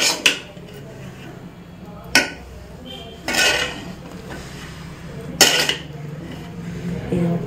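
A ladle stirs homemade chicken dum biryani rice in a wide pot, giving intermittent scraping and clanking metal hits, a few louder knocks spaced over the span, close by, with faint background sound between strokes.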